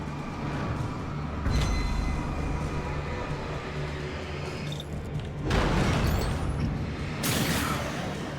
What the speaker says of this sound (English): Any more random parts of this train want to come to life?